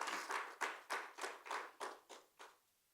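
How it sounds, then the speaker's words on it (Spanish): A congregation at a church service claps together in a run of about eight sharp bursts that gradually thin out and fade, with no voices over it. "Denle un aplauso al Señor"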